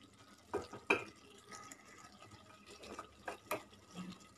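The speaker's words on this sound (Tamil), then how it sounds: "இப்போ நம்ம தண்ணி சேர்த்து இதை வேக வச்சு எடுத்துக்கலாம்." Faint splashes of water poured into a pot of mutton curry, a few short bursts separated by quiet gaps.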